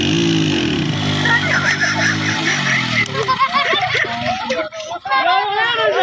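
Honda CD 70 and Honda 125 motorcycles in a race, an engine revving and droning up close at first, then fading under excited shouting and chatter from onlookers.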